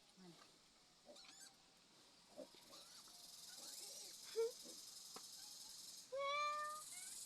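A cat meows several times, short and fairly faint at first, then a louder drawn-out meow near the end, over quiet background hiss.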